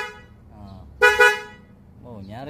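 Two quick, loud honks from a newly installed, shrill car horn on a Perodua Viva ring out close by between stretches of someone talking.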